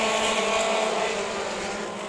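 Mini stock race cars roar past on the Orange Show Speedway oval at a green-flag restart, a dense, loud engine drone that sustains and fades slightly as the pack moves away.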